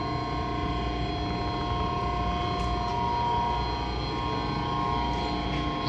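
A gas furnace blower runs in a steady, even drone with a constant low hum and airy whoosh, close and unchanging throughout.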